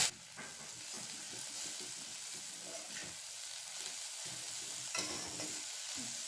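Chowmein with cabbage is stir-fried in a pan, giving a continuous close sizzle with repeated scraping and tossing strokes of the spatula.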